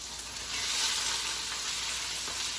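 Green beans fry in a pan with a steady, close sizzle that holds evenly throughout, with no talking.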